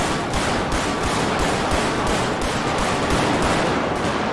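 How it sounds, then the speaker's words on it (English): Suspects fire a rapid, continuous burst of automatic gunfire during a GTA 5 highway police chase, loud and close, with a fast even rhythm of shots over road noise. "They start shooting."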